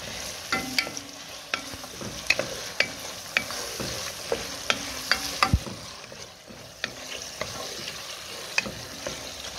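Poplar mushrooms cooking in a pan with softened onion, a utensil scraping and stirring in repeated sharp strokes over a steady close sizzle.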